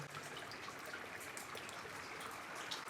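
Snowmelt trickles and drips steadily beside a frozen lake at Branched Oak Lake in freezing weather, a continuous close wash of running water with scattered brighter drops throughout, no voices.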